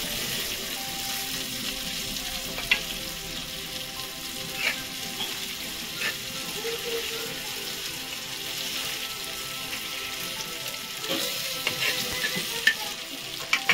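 Shingada fish frying Agri style in a pan, a steady close sizzle running throughout with a few sharp clinks and soft scrapes from turning the pieces over.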